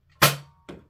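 A Villainator pump-action dart blaster fires a single waffle-head dart with a sharp, loud close-up crack and short whoosh, followed a half second later by a softer second impact or clack.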